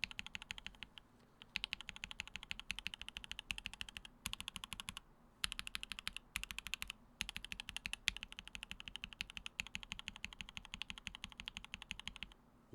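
Rapid typing on a mechanical keyboard fitted with lubed, filmed Mode switches, close and crisp with steady bursts of keystrokes separated by brief pauses, no talking.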